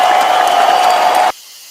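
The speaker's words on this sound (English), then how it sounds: "Let me get the applause." Loud studio applause and cheering from a crowd on a morning radio show, a steady wash of clapping that cuts off abruptly.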